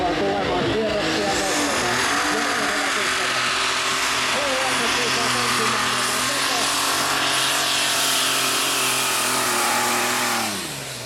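A tractor-pulling engine roars down the track at a Finnish European Championship event, loud and sustained with rising revs, then cutting off abruptly near the end.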